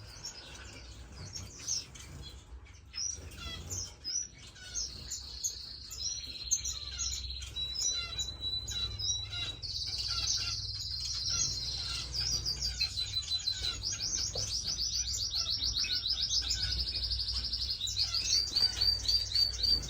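Finches chirp and tweet continuously in an indoor bird room, a dense overlapping chorus of quick high calls and trills that builds louder toward the end, with a low hum underneath.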